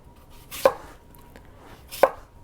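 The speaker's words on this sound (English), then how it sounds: "I'm going to chop my apples up nice and thin." A knife cuts through apples into thin slices on a board: two distinct, crisp chops about a second and a half apart, close and clear, with quiet in between and no talk.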